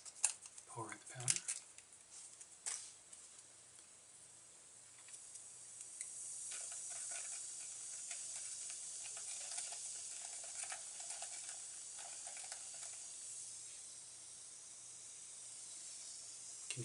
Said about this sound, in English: You can hear it fizz.